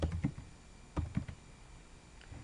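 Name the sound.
typing on a computer keyboard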